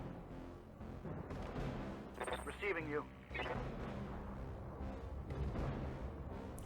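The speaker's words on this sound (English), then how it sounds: "There's some post-destruction explosions going on over there." Rumbling, booming explosions from wrecked mechs in the video game BattleTech, low and sustained across the stretch under ongoing commentary, with a brief radio voice.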